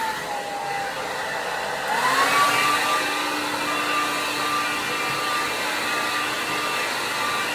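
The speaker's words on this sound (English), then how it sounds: "the way I'm holding the blow dryer" A blow dryer dries hair, droning steadily and loudly at close range. About two seconds in, its whine shifts upward as the airflow changes, then holds a constant tone with no speech.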